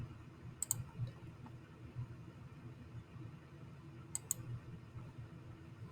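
Two faint, crisp computer mouse clicks, each a quick double tap, land about three and a half seconds apart against quiet room hum with no talking.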